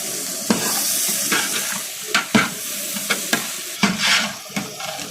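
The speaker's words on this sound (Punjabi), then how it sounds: "ਪਿਆਜ਼ ਭੁੰਨਿਆ ਜਾ ਰਿਹਾ ਹੈ" Onions fry and sizzle in a large pan for a halwai-style chickpea and paneer curry at a langar, with a steady hiss broken by repeated scraping stirs of a spatula.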